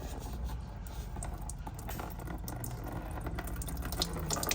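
Engine oil gurgling and splashing as it drains from a Ford 3.0 oil pan, a continuous liquid flow with bubbling bursts, close and fairly loud.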